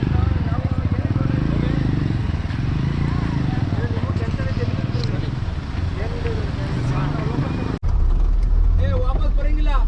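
Heavy road traffic near Kabini dam, with motorcycles and cars passing close by in a dense, steady engine rumble. People talk over it throughout, and there is a brief break near the end.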